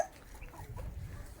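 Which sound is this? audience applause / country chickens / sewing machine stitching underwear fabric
country chickens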